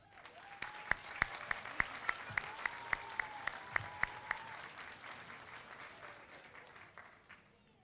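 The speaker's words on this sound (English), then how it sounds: "I'd like to give her a big round of applause" Audience applause at a school assembly on a military base, a faint crowd patter with a series of distinct nearby hand claps in steady rhythm before it thins out, quiet and somewhat distant in a large room.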